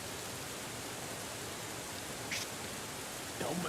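Heavy rain in the video game Steins;Gate 0 pours as a steady, dense hiss throughout, with a couple of brief faint sounds rising over it near the end.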